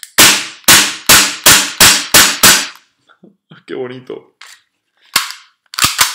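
Tokyo Marui USP Compact airsoft gas pistol firing seven sharp, loud cracks in a quick even rhythm, followed by handling clicks, a brief spoken remark and a few more shots.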